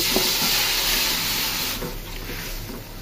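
Running tap water pours steadily as beef liver is washed, a continuous hiss with small splashes and handling noises, close and without talking.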